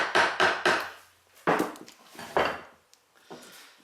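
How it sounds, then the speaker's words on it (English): A chisel cuts into a wooden scallop shell being hand-carved, giving a few sharp, close knocks and scraping slices in uneven bursts with short pauses between. "I'm just going to set that chisel in. I'm going to slice that around there"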